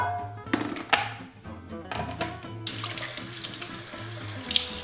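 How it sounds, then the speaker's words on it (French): Running tap water splashes into a kitchen sink as fish and meat are rinsed several times over, a steady close hiss of water with a few thunks, set against soft background music. "J'ai pour habitude de laver les aliments et surtout la viande et le poisson plusieurs fois d'affilée jusqu'à avoir une eau claire"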